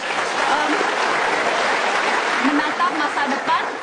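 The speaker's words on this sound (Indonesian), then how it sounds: "Kasih tepuk tangan untuk Pak Roni." Steady applause from a TV talk show studio audience fills the whole stretch, dense and sustained, with a few faint voices mixed in.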